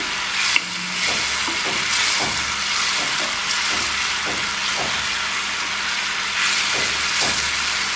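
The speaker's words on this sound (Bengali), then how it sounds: "মশলা কষানো হয়ে গেছে এবার মাছগুলো দিয়ে দিলাম" Fish pieces sizzle and fry in a spice masala in a pan, a steady close hiss with repeated scraping stirs at a regular pace throughout.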